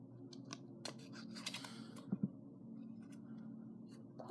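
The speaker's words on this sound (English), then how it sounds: "We are going to poke a hole right there from the back side." Paper being poked through from the back with a nail while making a keychain, a few faint scratchy clicks and crinkles close up in a quiet room.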